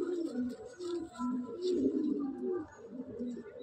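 Pigeons in a loft of Madrasi birds coo in soft, throaty bursts, several overlapping close by with a continuous, rolling rhythm and no talk.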